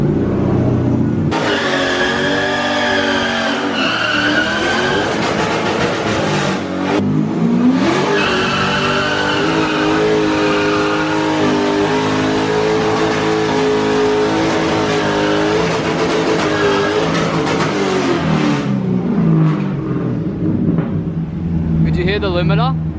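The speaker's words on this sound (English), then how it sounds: "put your foot on the brake as hard as you can and then accelerate as hard as you can" A car held on the brake while the engine revs hard in a shed skid attempt: a loud, sustained engine roar rising and falling in pitch, hitting the limiter, close and continuous for over twenty seconds.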